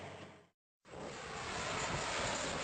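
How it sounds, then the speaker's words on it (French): An airplane carrying a coffin lands at Saint-Barthélemy airport, a broad steady engine roar that drops out briefly and then returns, rising gradually louder and fuller, with no voices over it. "l'avion transportant la dépouille de Johnny Hallyday atterrit sur le tarmac de l'aéroport de Saint-Barthélemy"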